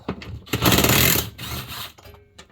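An impact gun rattles off an engine bolt on an LS-swapped Z31 300ZX, one loud, close buzzing burst followed by a shorter, quieter whir and a few faint clicks.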